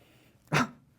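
A single sharp sneeze bursts out, short and close, against a quiet background.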